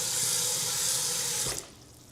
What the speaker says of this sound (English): I'm gonna put some water in this pan too that I just cooked the meat in.